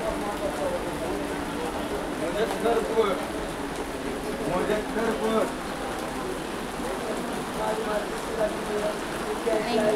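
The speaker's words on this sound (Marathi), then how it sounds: "आता बघतोय तर बघा अचानक पाऊस आलेला आहे" Heavy rain pours down near Thane station, a constant dense patter on the surfaces close by that swells and eases a little over several seconds.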